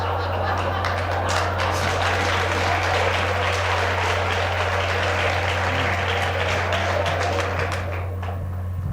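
An audience gives sustained applause for about nine seconds, dense and even before fading slightly at the end, over a constant low electrical hum.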